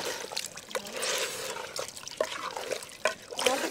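Rinse water from a stone grinding slab is poured into a pot of village-style country chicken curry, giving a soft, uneven trickle and splash at low volume.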